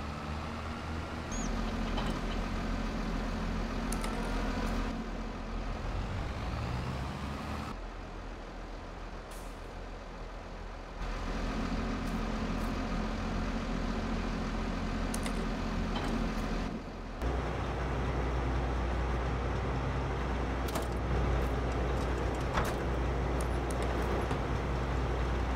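A farm truck pulling a header trailer in Farming Simulator 22 runs with a steady engine drone that shifts pitch as it moves, punctuated by air-brake hisses and short clicks, with no one talking.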